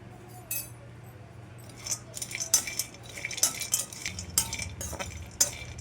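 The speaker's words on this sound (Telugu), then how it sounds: "ఇవన్నీ అన్ని దోరగా నెయ్యి వేసుకొని ఒక స్పూను ఇవి వేపుకొని పక్కకి పెట్టుకోవాలి" A spoon stirring black and white grapes, almonds, raisins and dried dates roasting in ghee, with light metallic clinks and scrapes against the pan coming in irregular bursts, close and fairly quiet.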